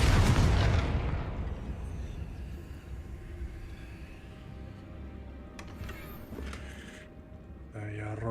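A booming fire-spell blast, Confringo, in Hogwarts Legacy, a loud deep explosion at the start that rolls off into a long fading rumble, followed by softer game noises and a brief low thud near the end.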